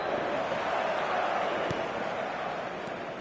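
A football stadium crowd on a clear evening before a big match makes a constant broad roar, loud and unbroken, with a couple of faint thuds inside it.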